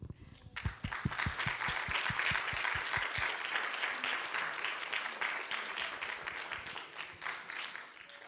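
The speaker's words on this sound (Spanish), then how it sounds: "me acompañan a darle un aplauso a Dios para glorificar la vida de mi padre" A church congregation applauds God in memory of a father's life, beginning with rhythmic unison claps that dissolve into sustained, dense applause that slowly tapers.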